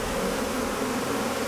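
A dense swarm of bees, thousands of them, hovers right around a person, making a loud, continuous droning buzz very close to the microphone.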